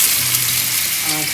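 Onions frying in a pot for khichdi, giving a steady close sizzle throughout, with faint stirring scrapes and no talk.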